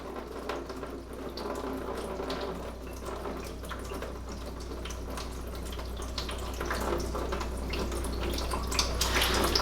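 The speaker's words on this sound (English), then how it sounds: "you're going to have water squirting out of the top of this" Water squirts and hisses steadily from the top of a water filter housing as its pressure is released, a continuous close splashing wash that grows slightly stronger toward the end.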